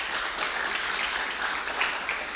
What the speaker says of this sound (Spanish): les pido un aplauso a todo el auditorio, a ese equipo valioso.